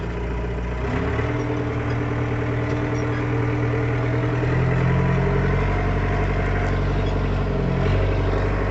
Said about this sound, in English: take your foot off the clutch, we'll give it a little throttle, go down a gear, and you just flip the switch, off it goes